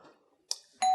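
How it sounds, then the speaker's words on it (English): A home doorbell rings in two short electronic chimes, the second louder and sustained, close by in a quiet room. "there's my doorbell."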